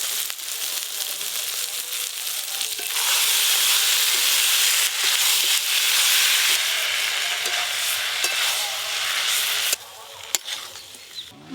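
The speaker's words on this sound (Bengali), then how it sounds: "মশলার সাথে আলু ফুলকপি দিয়ে ভালো করে কষে নিয়েছি।" Fried potato and cauliflower are stir-fried with masala in a pan, sizzling loudly and continuously while a spoon scrapes and knocks against the pan now and then.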